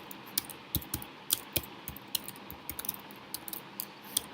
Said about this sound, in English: I'll just type in here git commit